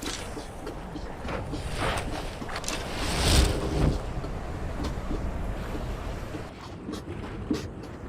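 Rushing river water in Skyrim VR, a steady broad wash of flowing current with a wind-like hiss, swelling briefly midway, with no talk.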